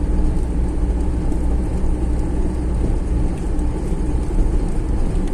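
Steady low engine rumble and road noise from inside a car driving downhill under engine braking on a Carpathian mountain road, continuous and even throughout, with no voices.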